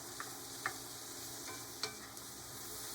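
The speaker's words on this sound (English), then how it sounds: "We're going to add our asparagus and just let that cook for another 3 or 4 minutes." Asparagus frying in a pan for a frittata, a continuous soft sizzle with a few light clicks of a utensil stirring, close and steady, with no voices.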